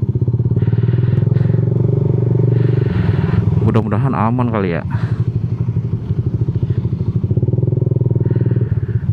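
A Yamaha New Jupiter MX motorcycle with a DBS racing exhaust putters loudly and close with a rapid, raspy exhaust rumble, briefly revving higher midway, while someone talks over it.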